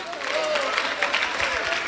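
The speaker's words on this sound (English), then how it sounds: "can you clap for this man that is coming up?" Audience clapping at a community meeting, a steady wash of applause through the whole stretch, with a voice talking over it.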